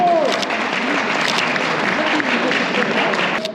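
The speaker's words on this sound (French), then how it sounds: "Je voudrais qu'on applaudisse ces deux grands champions." An audience at a French championship applauds the two champions, steady clapping from a crowd filling the whole stretch, with a faint voice or whistle-like tone near the start.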